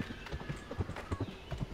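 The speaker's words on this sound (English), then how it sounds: "Is a horse nearby?" Horse hooves clip-clop in a Roblox game, a quick uneven run of soft hoof beats at moderate distance with no voices over them.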